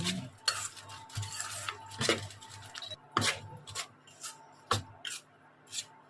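Gokhor laddu mixture stirred in a pan for Janmashtami, a spoon scraping and rubbing against the metal in repeated irregular strokes with clinks, close and clear over a faint steady background hum.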